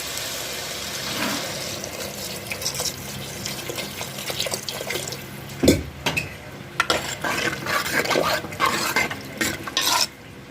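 Water splashes and trickles steadily into a pot of egg curry, with clinks of a spoon stirring and a sharp knock midway; no one speaks.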